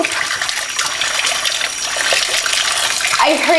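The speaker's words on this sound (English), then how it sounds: "Let me just wash my hands real quick with soap." Hot tap water runs steadily into a sink while hands are lathered and washed with soap, a continuous close splashing hiss throughout.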